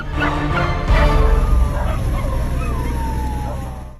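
Dogs abandoned on an island of Talim bark and yip close by, several sharp barks tumbling together before trailing into whimpers and a thin howl.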